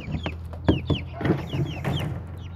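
Agitated chickens cluck and squawk excitedly in rapid, overlapping calls after a threat, with some louder sharp cries and a low steady hum underneath.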